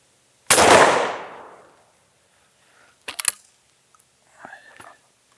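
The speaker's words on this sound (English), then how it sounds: "I'm shooting it through the new Crown, which is a beautiful looking gun." A single loud, close shotgun blast fired at a pattern plate, with Teague 3/4 chokes in a Crown gun, decaying over about a second, followed by faint clicks and soft handling noises and a brief quiet voice.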